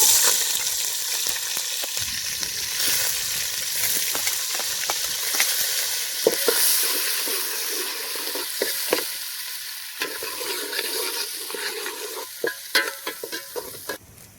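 Cinnamon and onion sizzle steadily in hot oil in a pan, with a continuous loud frying hiss broken by spoon stirring and scraping taps that grow sharper near the end; no one speaks.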